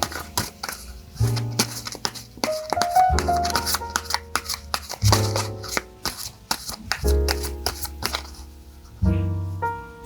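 Tarot cards are shuffled and drawn in several bursts of crisp riffling and slapping, close up, separated by short pauses over soft background music.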